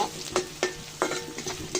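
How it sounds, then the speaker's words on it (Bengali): Onions frying in hot oil in a pan with whole garam masala, cardamom, cinnamon and cloves, a steady close sizzle broken by several sharp scraping stir strokes. "পেঁয়াজটা ভাজা হয়ে গেছে"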